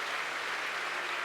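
Devotees at a religious gathering in Bharatpur clap together in welcome, a dense and steady wash of applause from a close crowd.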